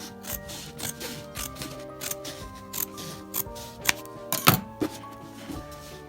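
Scissors trimming the seam allowance of a late Victorian lapped-seam corset, a series of crisp, close snips at an uneven rhythm, with one sharper cut near the end and no talking.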